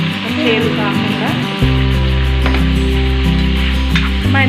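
Salted eggplant sizzles in hot oil for Hyderabadi bagara baigan, a steady loud crackling hiss over a low hum, with the frying growing fuller after a stir, while people talk over it.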